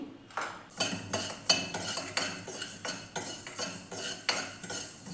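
Coriander seeds dry-roasting in a pan, stirred with a metal spoon in a steady rhythm of about a dozen scraping clinks and rattles, close and fairly loud, with no voices.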